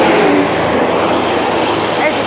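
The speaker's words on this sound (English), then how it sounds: "There's a ton of cars and they honk all the time." Dense street traffic in the Gascue area of the Dominican Republic, a loud continuous roar of cars and trucks close by with a hiss of air brakes and voices mixed in; no distinct horn blasts stand out.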